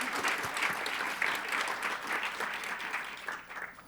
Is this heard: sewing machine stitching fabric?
no